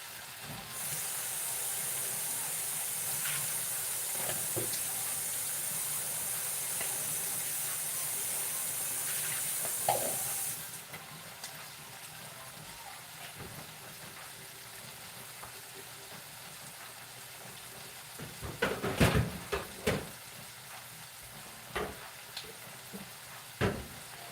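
Shrimp and broccoli cooking in a pan give off a loud, steady steaming hiss for about ten seconds that then cuts off, leaving quiet background with a few scattered clanks and knocks of cookware.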